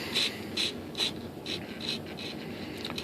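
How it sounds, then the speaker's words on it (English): A sponge sander scuffs a clear composite surface on a sailplane part in short, rhythmic rasping strokes, roughly two to three per second. The strokes are soft and close, with a light knock near the end. "I'll take a sponge sander and just go"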